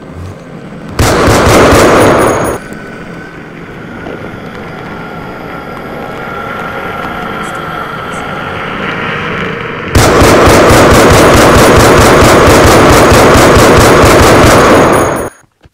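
Minecraft mod pack guns fire in a video game: a loud burst of rapid, roaring gunfire, then a quieter sustained hum, followed by a long continuous volley of rapid shots that cuts off abruptly.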